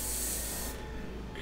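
Airbrush spraying India ink gives a steady, close hiss with no pauses, then the high airy part drops away partway through as the spray eases off.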